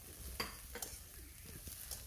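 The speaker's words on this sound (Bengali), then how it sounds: "আমি বাঁধাকপি 30 থেকে 40 সেকেন্ড নেড়ে চেড়ে নুডলসটা দিয়ে দিচ্ছি" Shredded cabbage tossed in a hot pan for vegetable noodles, faint sizzling with a few light scrapes and clinks of the spatula, quiet and close, no talking.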